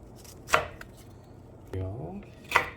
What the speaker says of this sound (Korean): 파프리카도 얇게 채 썰어 주시고요